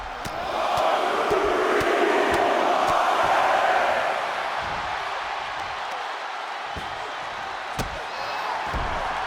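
Crowd noise from a WWE 2K24 wrestling match swells into loud sustained cheering, then settles to a steady roar with sharp slam-like impacts punctuating it.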